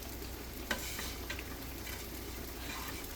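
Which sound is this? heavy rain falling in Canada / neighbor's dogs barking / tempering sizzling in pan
tempering sizzling in pan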